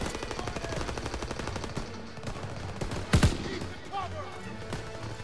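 Rapid automatic gunfire in a Call of Duty WWII battle, with loud, dense bursts and one sharp, heavy blast partway through, as a player talks over the shooting.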